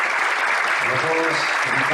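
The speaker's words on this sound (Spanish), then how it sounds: "así que brindamos un fuerte aplauso." Audience clapping at a book presentation event, a dense burst of applause heard under someone speaking Spanish, who keeps talking over the noise for the whole short stretch.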